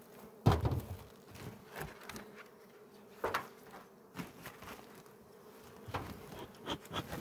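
Honey bees buzz around open beehives during hive maintenance, a steady close hum with sharper bursts as individual bees fly near, alongside occasional handling knocks of frames.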